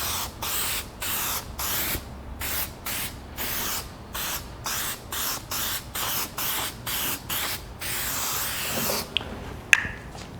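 Headlight restoration coating sprayed from an aerosol can in a rapid series of short, even hissing bursts, about fifteen pulses with brief gaps, close and steady, with no talking.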